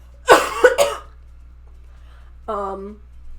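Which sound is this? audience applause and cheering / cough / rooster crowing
cough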